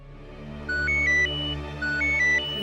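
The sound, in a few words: phone ringtone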